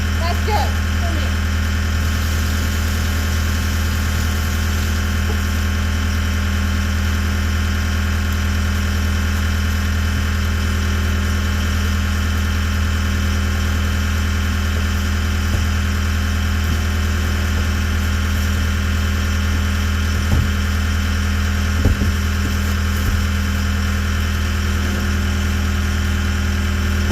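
A skid loader engine idles steadily on a farm in winter, giving a continuous loud, low droning hum with no change in pace. A faint voice may come through under the engine at times.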